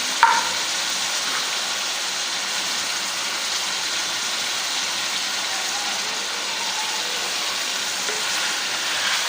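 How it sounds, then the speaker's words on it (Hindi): Garlic ginger paste, tomato and onion frying in a pot for achar gosht, a steady moderate sizzle with a faint clink at the start, alone without talking. "लहसुन अदरक का पेस्ट, टमाटर और प्याज, और इन्हें भी अच्छी तरह फ्राई होने के लिए रखते हैं।"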